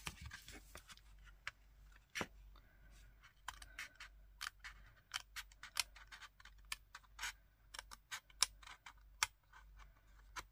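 Scissors snip through paper card for a pop-up card, giving quiet, irregular sharp cuts and clicks scattered over a near-silent background.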